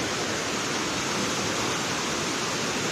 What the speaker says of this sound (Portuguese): A água desce aqui numa velocidade muito grande, como observamos agora.